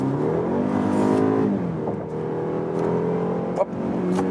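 A 2019 BMW X3 30i with a 252-horsepower four-cylinder pulls hard from 70 to 100 km/h in sport mode, its loud engine rising steadily in pitch, dipping briefly at a gear change, then climbing again.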